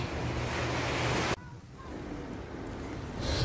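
Sea waves wash onto a beach at Puerto Galera, a steady broadband rush of surf and wind that drops briefly partway through and then builds again.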